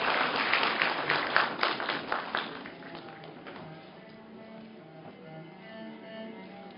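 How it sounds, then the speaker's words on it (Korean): At a university graduation ceremony, a hall audience claps for an award recipient; the applause is loud at first, then thins and fades into quiet room murmur. "박수로 환영해 주시기 바랍니다"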